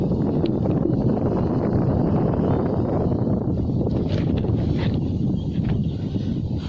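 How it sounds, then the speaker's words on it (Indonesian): Strong wind blows outdoors, a dense low roar buffeting the microphone without pause, loud and steady with faint rustling and no speech. "Yang untuk angin agak gede ini anginnya"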